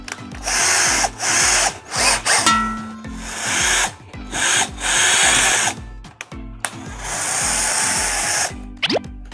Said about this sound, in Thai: เจาะเพื่อยึดสกูนะครับเพื่อน